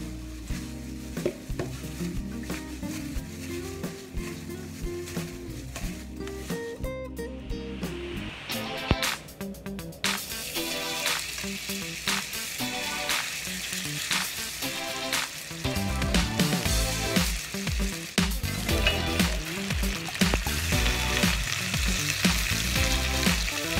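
Beef and mushroom fried rice stirred in a pan, a continuous loud sizzle broken by clattering scrapes and tosses of the spatula, close up, growing busier toward the end with no talk.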